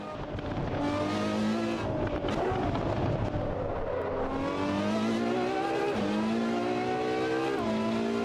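A race car in Assetto Corsa Evo V0.4 on the Nürburgring roars continuously through the drive, its engine note climbing and dropping through gear changes, with faint tire noise underneath.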